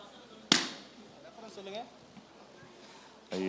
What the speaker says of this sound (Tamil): பலூன் வெடிங்க.